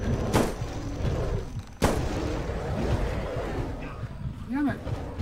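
Two sharp, heavy gunshots from a slow-firing gun in a Bigfoot video game set in Yellowstone, spaced about a second and a half apart over steady ambient game noise.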